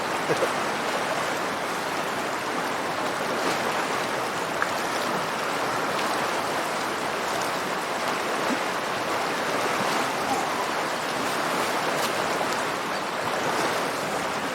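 The Yellowstone River in Wyoming flowing, a steady broadband rush of moving water close by, continuous and even for the whole stretch with no voices.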